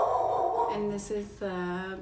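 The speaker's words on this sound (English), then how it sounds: "Excuse my dogs because they're going crazy" Excited dogs let out a few short, sharp barks and yips indoors, partly under someone talking.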